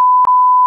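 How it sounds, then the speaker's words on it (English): A steady electronic censor bleep covers a spoken name: one loud, pure tone with a tiny break partway through, lasting under a second. "I told you we weren't gonna bleep it out."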